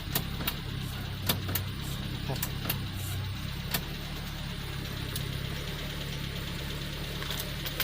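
A small Mazda M1300 car engine idles after a remote start, with a low, slightly knocking hum. Sharp clicks punctuate it at irregular intervals.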